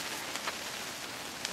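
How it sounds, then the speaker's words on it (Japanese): Rain falls steadily at a campsite shelter during strong wind, a soft, even hiss of drops with a few faint taps, and no voices. "ここの中にいましても雨が少々吹き込んできますので"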